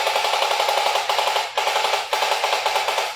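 A voice mimics Armalite rifle fire during a game of pretend shooting, giving rapid, buzzing bursts in quick succession broken by short pauses, close and fairly loud.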